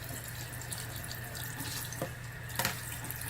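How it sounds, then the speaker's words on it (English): Warm water runs steadily from a tap into a sink, a continuous rushing flow with a couple of brief splashes or drips. "what I do is I just get warm water"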